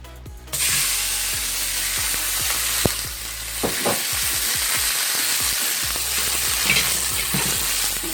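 Chicken for a stir fry hits smoking-hot oil in a pan and bursts into loud, steady sizzling and spitting close by, with a few sharp clatters of utensils against the pan and no voices.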